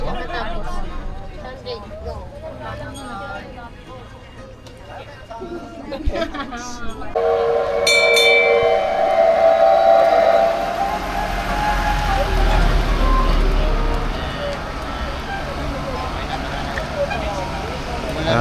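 A train rumbles past near Osaka, Japan, its drone swelling with a few tonal horn-like notes, while people chat nearby.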